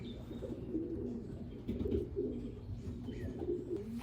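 A racing pigeon coos in soft, repeated low phrases, close by, over a steady background hum with faint chirps, and no speech.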